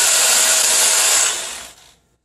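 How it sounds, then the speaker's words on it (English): A drill reams out a hole in concrete with a loud, harsh grinding hiss that holds steady, then winds down and fades away toward the end. "This one doesn't quite fit, so I gotta ream it out a little bit more."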